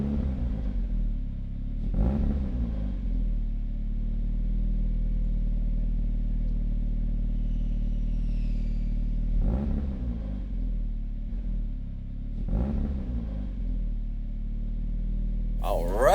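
A 1972 BMW 2002 Turbo with an M42 engine, making 350 horsepower at the wheels, hums with a steady low rumble from inside the car, with a few brief surges as it accelerates.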